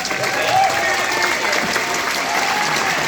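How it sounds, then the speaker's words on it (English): A convention audience at a Comic Con Q&A panel in Newport, Wales applauds a cosplayer with loud, continuous clapping, and a few cheers and voices rise from the crowd within it. "round of applause for this amazing cosplay."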